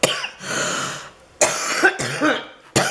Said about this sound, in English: I'm sorry about all the coughing.